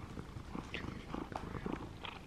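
A cat purrs softly and steadily up close, a low rumbling flutter that stays faint and continuous throughout, with no talking over it.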